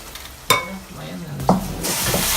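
Tempeh frying in a pan of hot oil with a steady sizzle, broken by a couple of sharp scrapes and clatters as it is stirred with a utensil; no talking.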